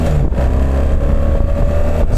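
A motorcycle engine revs up steadily toward the red line on a gravel road, a loud, close, continuous whine that climbs in pitch across a couple of seconds.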